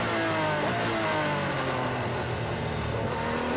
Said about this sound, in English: But that's a proper single-seater noise, isn't it? This is a snarl to the engine, though.